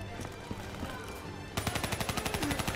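Gunfire in Call of Duty Black Ops III, scattered shots at first, then a sudden burst of rapid automatic fire at an even rhythm, fairly close and sharp.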